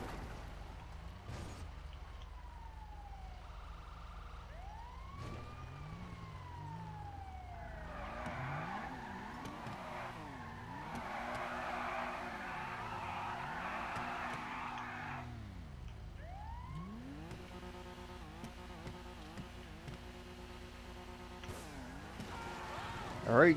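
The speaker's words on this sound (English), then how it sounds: "He's doing the famously stupid reverse donuts" Car in GTA 5 spinning reverse donuts, tires skidding and screeching in repeated sweeping waves over a steady engine drone, with siren-like tones and a sharp thud at the very end.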